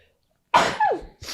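A single sharp, close human sneeze breaks out of silence with an explosive burst and a falling tail, and another sound begins just after it.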